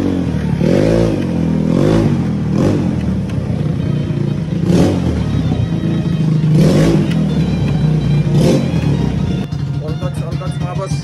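A Yamaha Fino scooter with a misfiring carburetor revs in loud, uneven surges, its engine note rising and falling repeatedly, close up, with someone talking over it.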